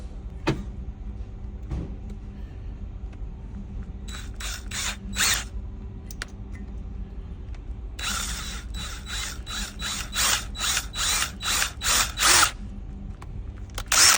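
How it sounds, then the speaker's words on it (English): A power drill bores a small hole into a leaking camshaft oil seal during a timing belt job, sounding as a series of short, bright whirring bursts that grow more rapid and repeated toward the end over a low background hum. "Drill a little hole in it."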